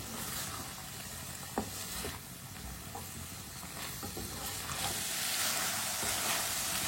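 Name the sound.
carrots sizzling while cooking in a pan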